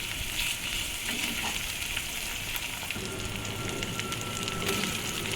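Ginger paste and chopped onion fry in a pan with a steady, dense sizzle that runs throughout, close and even, with faint stirring scrapes and no voices.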